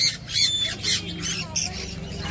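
Red sun conure parrots squawk at a pet market in Shrirampore, harsh bursts repeating in quick succession close by, with faint voices in the background.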